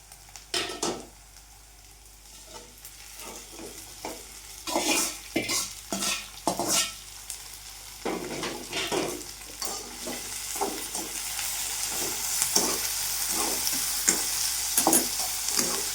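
Okra sautéed with onions in a pan for vendaikkai rice, a steady sizzle with repeated scraping and stirring of a spatula against the pan, close and fairly loud, growing denser toward the end, no voices.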